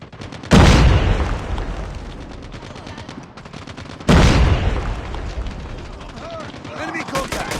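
In a shooter video game, two loud, close blasts land about four seconds apart, each followed by rattling gunfire and lingering rumble, with game voices and whistling effects in the background.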